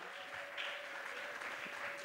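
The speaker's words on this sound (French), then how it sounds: "Vous avez bien applaudi" Faint applause from a crowd, with steady clapping that blends into a soft wash, heard at a distance for a couple of seconds.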